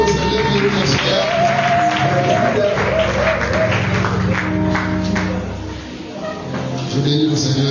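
A church congregation applauds through a French-language service. The clapping is dense and sustained, mixed with voices and music, and dips briefly near the end.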